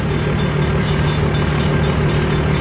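CN M384 freight train passing in Port Huron, a loud, continuous rumble with steady low hum and broadband rolling noise, unbroken throughout and close to the listener.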